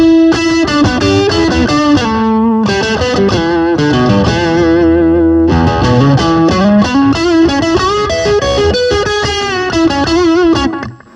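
Electric guitar played through a Red Snapper overdrive pedal, a loud, dense, driven tone with sustained chords and lead lines running continuously before cutting off, no talking.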